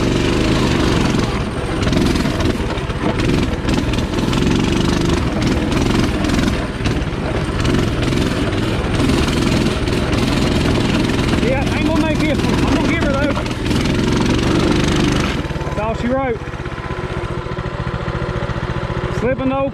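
Small engine of a Coleman CT200 mini bike labouring up a rough off-road single-track trail, a steady close droning roar throughout that drops off toward the end, with a voice speaking over it.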